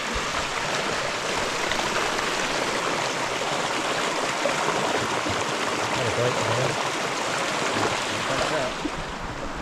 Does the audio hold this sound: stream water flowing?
yes